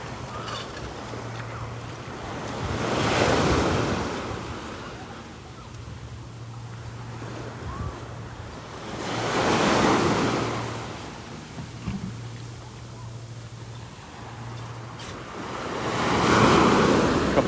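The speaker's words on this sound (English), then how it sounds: "Couple nice little waves rolling in again." Small waves roll in and wash up on a calm beach at Vanderbilt Beach in North Naples, Florida, three soft swells rising and fading over steady wind noise, with a faint low motor hum in the background.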